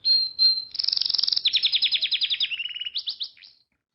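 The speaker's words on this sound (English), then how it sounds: "I like this bird." A single caged bird in a pet shop sings close and clear, opening with thin whistled notes, then rapid chirping trills that change pitch before stopping abruptly.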